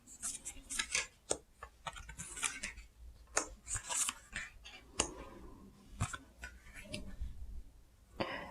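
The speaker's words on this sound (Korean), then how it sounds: "카드 나열을 좀 해볼게요." Tarot cards are spread out across a table, producing a run of light, close clicks, flicks and soft sliding rustles at irregular intervals.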